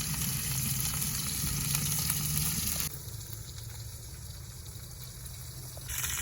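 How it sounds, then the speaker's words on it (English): Oil in a pan sizzles loudly and steadily, with a brighter crackle in the first three seconds that drops to a softer, even fizz before swelling again at the end; no one speaks, ahead of a steak going in at a campsite. "I got some oil in the pan, and steak's getting ready to be thrown on"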